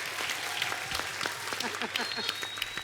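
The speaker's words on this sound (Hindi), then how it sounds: "जोरदार तालियां हो जाएं उनकी मिसेज के लिए भी" Scattered clapping from a comedy show audience with some voices murmuring underneath, steady and moderately loud throughout.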